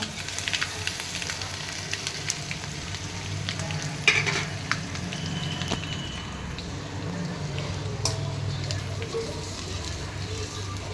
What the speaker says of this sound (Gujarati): મસ્ત તેલ આપણે તતરી ગયા ને હવે નાખી દઈએ આપણે ધીમે ધીમે પાત્રા